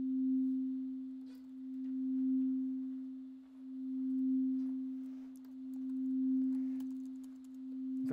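A steady synthesized sine tone at middle C, made in SuperCollider with default parameters, holds one pitch with a slow rhythmic swell in loudness, alone and fairly quiet for about eight seconds.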